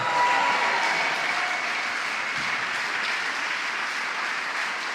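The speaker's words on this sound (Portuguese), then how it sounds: "Alguém o aplauda" A church congregation claps steadily at a worship service, dense sustained applause filling the whole stretch at an even level with no clear talk over it.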